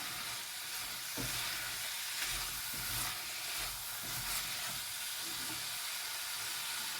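Huevos rancheros mixture sizzles steadily in a hot pan, a constant frying hiss broken by a few soft scrapes and clicks as it is stirred, with no voices.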